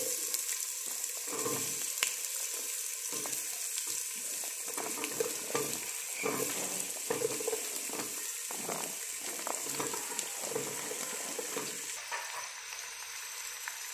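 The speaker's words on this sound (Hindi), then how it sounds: "अब इसमें आलू और गाजर डाल देते हैं।" Potatoes and carrots tumbled into softened onions in a pan for carrot soup, a constant strong sizzle with repeated scraping and clattering stir strokes, easing slightly in the final seconds.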